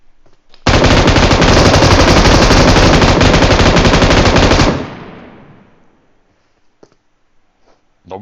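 Loud, sustained machine gun fire in PUBG Mobile, an unbroken rapid stream of rounds lasting about four seconds, then trailing off into a fading echo and near silence with a few faint clicks.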